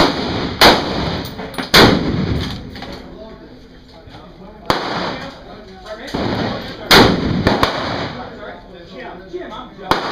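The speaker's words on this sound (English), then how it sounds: "Start shooting it. The more of us shooting, the better we are." Several people fire guns while sighting in red dot sights. About six sharp, loud, close bangs come in irregular spacing, with people talking between the shots.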